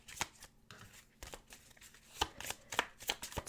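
Tarot cards being shuffled by hand, with quick papery riffles and soft slaps arriving in irregular bursts, close and fairly quiet, with no talking.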